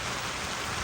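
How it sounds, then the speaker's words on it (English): Heavy pouring rain falling steadily on rocky canyon ground, a dense, constant wash of noise with no breaks and no voices. "It's no longer raining, it's pouring."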